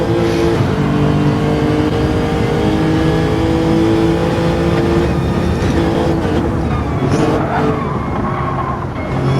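Onboard race car engine in Gran Turismo 7 at Dragon Trail Seaside, a loud continuous high-revving drone with harmonic whine that shifts pitch through gear changes while cornering around turn 12.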